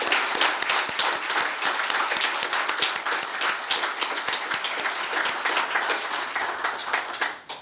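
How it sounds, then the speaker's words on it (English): An audience at a Veterans Day ceremony applauds the Hoffman Estates High School band, a sustained dense round of clapping at moderate level that fades out abruptly at the end. "with a big round of applause for Hoffman Estates High School"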